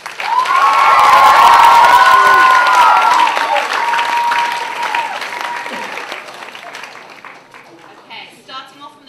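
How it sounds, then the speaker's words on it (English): A crowd at a school debate competition final bursts into loud, sustained applause with cheering and excited shouts for both teams, slowly fading out over several seconds. "can we have a big round of applause for both teams?"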